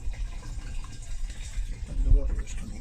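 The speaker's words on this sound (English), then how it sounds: "and the water is coming in" Water runs from an opened valve into a newly installed water tank aboard a Hurley 9.5 motorsailer, a soft gurgling flow heard close with low background rumble.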